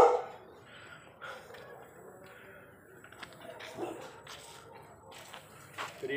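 A few scattered dog barks and yips, fairly distant and faint, over low background noise.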